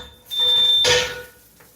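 A home smoke detector sounding its alarm, one loud high-pitched electronic tone held for about half a second, then a brief burst of noise before it fades.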